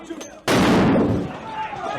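A loud, close gunshot bursts out during LAPD SWAT tactical training at a training facility. A long echoing tail decays after it, and faint voices are heard before the shot.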